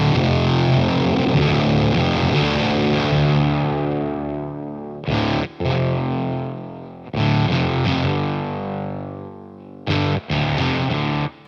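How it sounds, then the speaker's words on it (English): An electric guitar runs through a heavy fuzz distortion pedal, sustained thick buzzing chords ring and slowly decay, broken by short choppy bursts, loud and close with no voices. "There's just a huge amount of fuzz."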